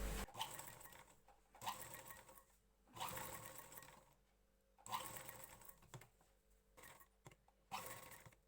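A sewing machine stitches lace along the top and bottom edges of a blouse neckline in five short bursts of whirring separated by pauses, quiet and close with no voices.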